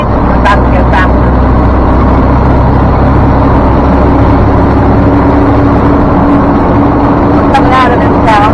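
Loud, steady engine and road noise from a car driving along a Gulf Coast road out of a small town, holding a continuous drone as it picks up speed, with a voice speaking over it.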